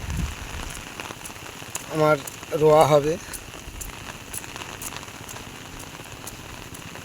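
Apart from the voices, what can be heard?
rain falling while walking under an umbrella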